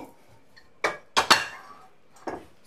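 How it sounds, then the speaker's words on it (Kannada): A metal kadai (wok) is picked up and set down on a home kitchen stove while sweet corn curry is being prepared, giving a few sharp, close metallic clanks with quiet pauses between them. "ಈಗ ನೆಕ್ಸ್ಟ್ ಏನ್ ಮಾಡ್ಬೇಕು ಅಂದ್ರೆ ಒಂದು ಕಡಾಯಿ ತಗೊಳ್ಬೇಕು"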